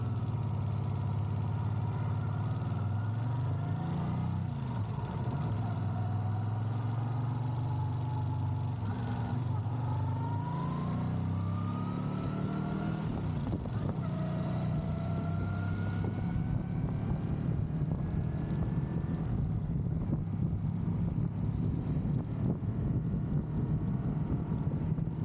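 A 1978 Honda CX500 motorcycle rides along a road, its steady engine drone running continuously and rising in pitch as it accelerates, with heavy wind rush over the microphone throughout.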